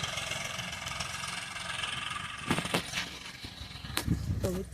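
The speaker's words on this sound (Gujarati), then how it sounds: "ટ્રેક્ટર આવી રહ્યું છે." A tractor engine arriving at a farm field gives a steady mid-distance rumble, joined near the end by a few brief, sharper bursts of sound.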